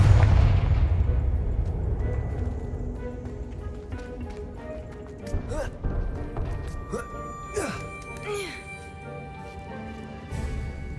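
The Confringo spell in Hogwarts Legacy fires several sharp magical blasts and bursts. They come at irregular intervals over a low rumble, mid-distance and moderately loud, with spoken spell names between them.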